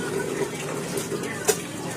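Water runs steadily from a tap in a home, making a continuous close hiss with one brief louder splash or clunk near the end. No one speaks.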